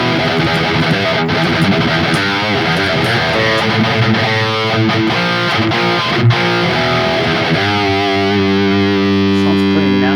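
A heavily distorted electric guitar playing a rhythm part through the Neural DSP Gojira X amp plugin, with chugging palm-muted riffs and ringing chords, loud and continuous with no talking.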